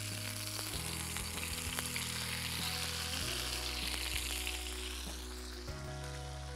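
Unmarinated hot spot fish sizzles steadily in hot oil in a pan, a dense close frying hiss with occasional soft stirring or shifting in the pan, no talk.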